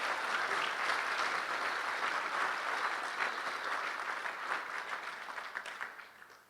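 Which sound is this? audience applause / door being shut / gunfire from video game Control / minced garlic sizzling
audience applause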